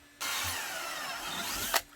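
A power drill bores a screw hole while a gun holster for a Canik TP9 SFX is being made on a vac press. It gives one steady, close whir lasting about a second and a half, with no voices over it.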